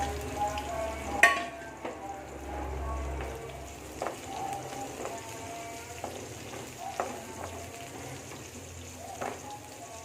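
Onions and green chilies are frying in oil with browned garlic, a soft steady sizzle with occasional clicks and scrapes of stirring, quiet and close.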